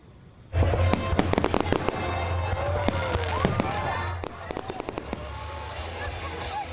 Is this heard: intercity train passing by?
no